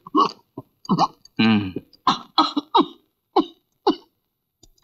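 A sick mother in a Bengali film scene gives a series of rough, hoarse coughs in short bursts with brief pauses, close and fairly loud, with one long strained throaty sound.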